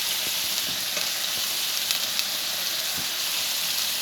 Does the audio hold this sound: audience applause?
no